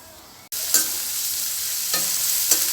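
Finely chopped sambar onions, five or six of them, hit hot oil after a brief silence and then sizzle steadily and loudly. A few scraping stirs stand out, for a village-style shark puttu.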